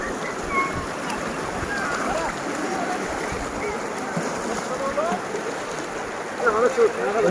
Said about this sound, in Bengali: প্রচুর স্রোত